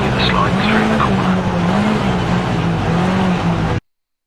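A rally car power-sliding with tires skidding through a corner in the Richard Burns Rally video game, loud engine drone and squealing tires sustained before cutting off abruptly, with a voice speaking over it.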